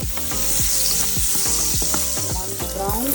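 Garlic cloves fry in hot olive oil and butter with a loud, dense, continuous sizzle, close up, along with faint rhythmic knocks suggesting stirring.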